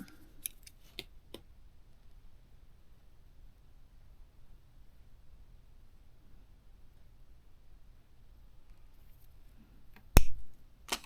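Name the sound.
cutting with scissors while remaking earrings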